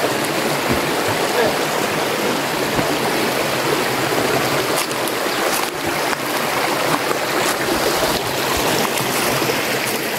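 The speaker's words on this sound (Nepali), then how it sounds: "सुन्दरी जलको खोला हो यो" River at Sundarijal rushing over rocks, a dense steady broadband wash of flowing water close by, with a few faint knocks over it and no talk.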